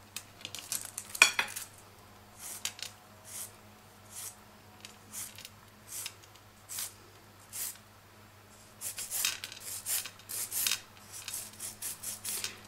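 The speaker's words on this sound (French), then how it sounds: "Le bruit que vous entendez à la lime aussi, ça c'est le bruit du gel encore." Short, dry rasping strokes of a nail file scraping gel off a nail during removal, coming in bursts with pauses, close and fairly quiet over a low hum.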